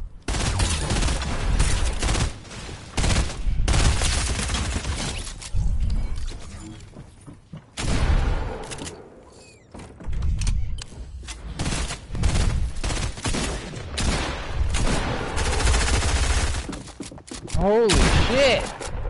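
Dense bursts of gunfire in a Call of Duty Warzone style shooter, rapid automatic volleys and sharp shots repeating loudly with brief lulls, mixed with voices talking.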